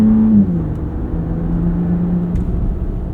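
A 2025 Ram RHO's 3-liter inline-6 revs, its loud, steady engine drone shifting pitch slightly before settling into a sustained hum heard up close from inside the truck, with no talking.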